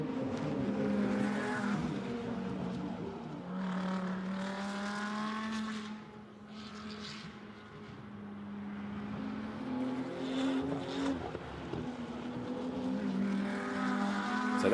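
An LP Racing Audi GT2 race car at Spa-Francorchamps in a Fanatec GT2 European Series race has a steady engine drone that climbs and dips through gear changes, loud and continuous, with a brief lull midway.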